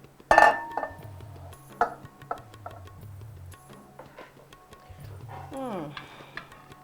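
Macaroni scooped onto a plate with a serving spoon in a home kitchen, with a sharp utensil clatter at the start and then lighter scraping and clinks, under a steady low hum and occasional brief talk.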